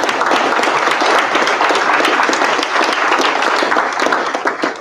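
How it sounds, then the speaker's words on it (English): An audience claps loudly and steadily after a Q&A session at a talk, dense continuous applause filling the room from start to finish with no voices over it. "A big round of applause."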